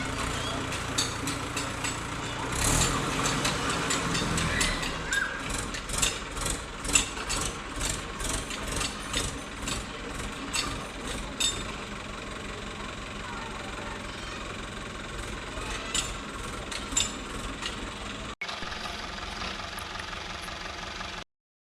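A tractor engine runs steadily while the tractor turns in a small field, with a close, low chugging drone and a rhythmic knocking pulse that continues for a long stretch before stopping abruptly.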